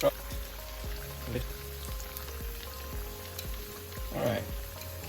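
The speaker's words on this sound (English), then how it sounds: "we'll have that fried for approximately 3 minutes" Soft, continuous sizzling of green plantains frying in oil for tostones, with scattered pops and light clinks against a faint background hum.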